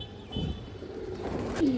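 A pair of green-necked pigeons gives a brief burst of soft, throaty cooing over a dull, steady background hum.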